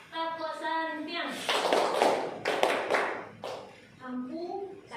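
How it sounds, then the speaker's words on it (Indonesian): A group of adults performs tepuk santian, a rhythmic clapping chant in which voices chant in unison and then give way to quick, patterned bursts of clapping, with the chanting returning at the end. "kita tepuk santian dulu Bapak Ibu untuk mengapresiasi jawaban yang sangat luar biasa"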